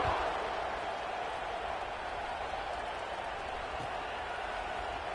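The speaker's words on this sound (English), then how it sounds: "this crowd is feeling themselves after that last drive" Football stadium crowd at a USC vs Arizona State game cheering after kickoff: a steady, distant wash of roaring voices and applause with no distinct peaks, holding at an even level throughout.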